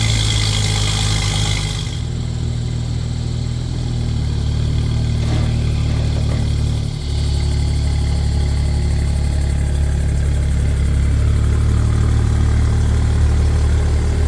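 A BMW F10 535i with an RVG catless downpipe exhaust idles loud and close, a steady deep rumble holding evenly throughout with one brief dip, no voices.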